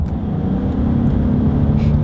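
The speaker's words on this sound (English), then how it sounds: "Borg Warner turbos kicking in." A Ford F-150 with the 3.5 EcoBoost and Borg Warner turbos pulls hard with the 10-speed, giving a loud, steady, close engine and turbo drone from inside the cab without any speech.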